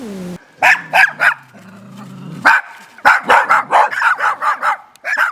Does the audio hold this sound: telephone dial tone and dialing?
no